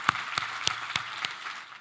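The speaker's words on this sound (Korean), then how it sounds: "우리 하나님께 감사의 박수를 드리겠습니다" A church congregation gives a brief round of applause to God during a worship service, heard as a few sharp, spaced claps over a soft, rustling wash of hands, fairly quiet and fading out within two seconds.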